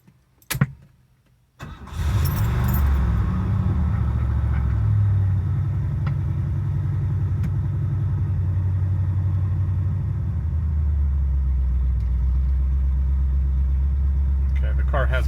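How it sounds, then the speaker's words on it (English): A 1971 Lincoln Continental Mark III cranks briefly, catches and settles into a deep, steady, loud V8 idle that rumbles on close by, with a short voice and small clicks before the start. "we are going to take the 1971 Lincoln Mark III for a test drive"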